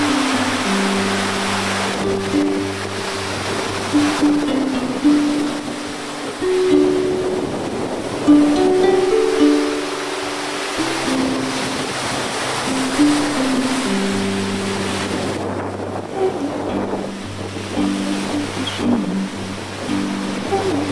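Open-sea waves during blue water sailing between Port Elizabeth and Cape Town, a continuous washing roar of water against the boat with swells rising and easing, mixed with low rumbling tones and wind.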